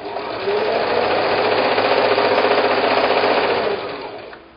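A sewing machine runs steadily, stitching fabric strips with the needle stopping in the down position. A loud, continuous close mechanical whir starts and stops within a few seconds, with no talking over it.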